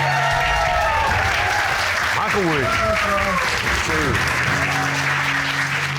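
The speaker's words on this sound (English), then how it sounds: "Round of applause." A studio audience on a couples court show applauds loudly and continuously, with a voice speaking over the clapping midway.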